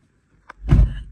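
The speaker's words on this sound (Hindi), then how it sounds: "और मेरी बेटी ने दरवाजा खोला" A door opens at home: a small click, then a louder rumbling swing and thud, close and brief with no talk.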